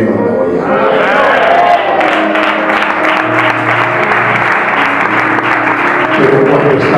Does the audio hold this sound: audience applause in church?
yes